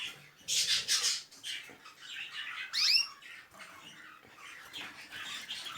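Caged canaries and Java sparrows call in loud, shrill bursts of squawks and chirps, close by, with quieter twittering in between and no voices.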